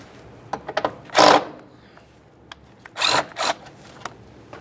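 A power tool runs on the 10mm nuts holding the windshield washer reservoir of a 2013–2020 Ford Fusion. There are three short, close whirring bursts with light clicks and handling noises between them.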